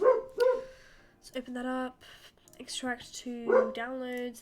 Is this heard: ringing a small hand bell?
no